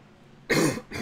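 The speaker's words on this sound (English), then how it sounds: "Sorry for the cough, guys." Two close coughs from a male podcast host, the first harsh and longer, the second shorter, separated by a brief pause against quiet background.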